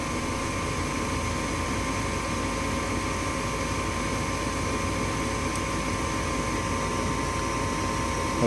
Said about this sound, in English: push in the open door switch, kicks on the inducer motor